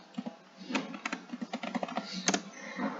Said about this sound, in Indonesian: Ketikkan restart.